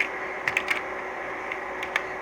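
A few scattered key presses on a computer keyboard, sharp isolated clicks spaced irregularly over a steady background hiss, close and fairly faint, with no talking.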